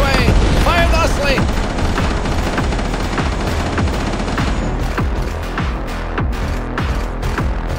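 Rapid automatic gunfire from the Ocean Keeper video game, loud and continuous bursts with booms, while a voice speaks over the shooting.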